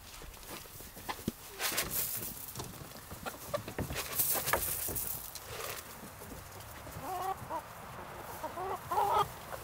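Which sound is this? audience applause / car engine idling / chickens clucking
chickens clucking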